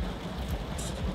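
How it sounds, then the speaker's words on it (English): Heavy rain pouring down during a saltwater fishing trip, a dense continuous wash of drops close by with no voices. "Hopefully this rain passes, man."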